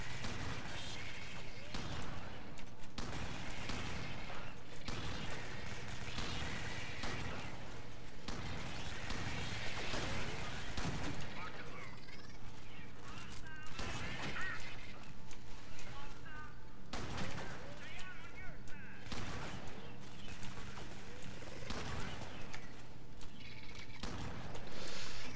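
Shotgun blasts in Alien Swarm, a rapid series of loud, sharp shots in bursts over a busy background of game noise, with people talking throughout.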